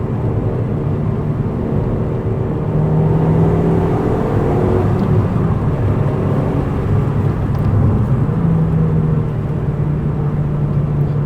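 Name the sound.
Audi TT Quattro Sport engine while driving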